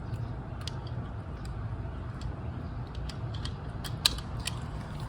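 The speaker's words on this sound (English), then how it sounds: "Get this socket on my 3-inch torque wrench." Socket on a 3-inch torque wrench tightening a bolt during a CVT fluid change on a 2017-2022 Honda CR-V, giving faint scattered metallic ratchet clicks and ticks over a low background hum, with one sharper click near the end.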